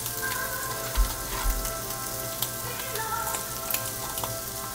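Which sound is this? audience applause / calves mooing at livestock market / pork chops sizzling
pork chops sizzling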